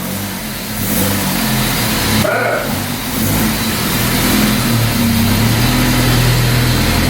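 Close, loud revving from a B16B engine swapped into an EG Honda Civic, a rough, steady roar that swells and settles over several seconds with no voices.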